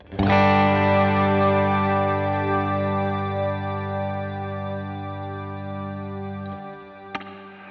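A sustained distorted guitar chord rings out through a Strymon BigSky MX spring reverb, with a wet, washy reverb tail that slowly decays, ending with a small click.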